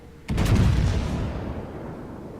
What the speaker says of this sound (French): Tire sur le Tirpitz, première salve, première tourelle.